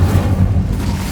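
The Incendio fire spell is cast in Hogwarts Legacy, a loud, low, booming whoosh of flame that rumbles steadily for about a second, close and heavy, with no talk.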